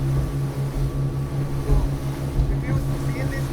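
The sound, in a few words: boat ride to Netrani Island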